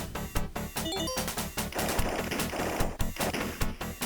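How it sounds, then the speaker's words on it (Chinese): Rapid automatic weapon fire in a Sega RoboCop-style action game, dense bursts of sharp shots mixed with crashing impacts over backing music, loud and continuous. "穿上了骨骼装甲之后，咱们的武器就变成连发了"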